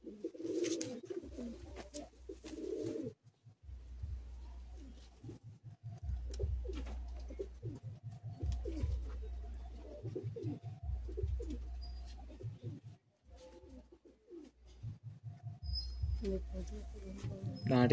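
Pigeons in a loft give low, rhythmic cooing in repeated throaty phrases, close and steady throughout, with occasional faint rustling and a brief quieter gap.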